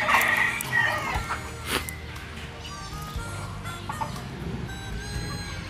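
Furry Chinese silkie chickens clucking at a mini zoo, with soft, irregular clucks and chirps nearby over a busy outdoor background and faint rustling.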